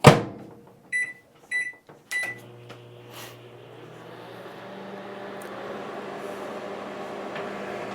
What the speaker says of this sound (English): Let's just microwave this water for 30 seconds.